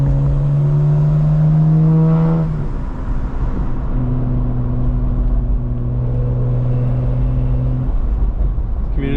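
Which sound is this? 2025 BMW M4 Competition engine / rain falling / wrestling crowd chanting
2025 BMW M4 Competition engine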